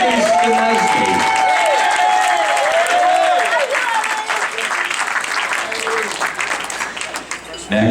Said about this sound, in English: How about a big round of applause for best man Eddie Skenesky.